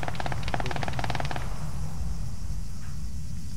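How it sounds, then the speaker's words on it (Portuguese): Rapid bursts of automatic gunfire from a video game ring out loud and close for about a second and a half, then give way to a steady low rumble of in-game background noise. "Tô escutando o tiro, mas não tô vendo"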